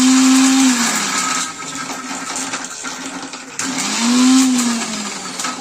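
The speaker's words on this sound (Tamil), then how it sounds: "கொஞ்சம் இப்படி மாதிரி விட்டு மிக்ஸி போட்டுக்கோங்க" A mixer grinder blending masala with a little water whirs loudly in pulses, its motor pitch rising and falling as it runs, pauses briefly, then spins up again.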